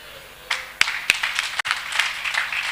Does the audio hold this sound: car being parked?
no